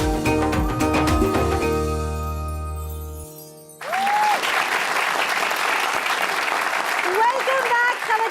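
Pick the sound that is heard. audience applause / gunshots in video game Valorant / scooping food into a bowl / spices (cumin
audience applause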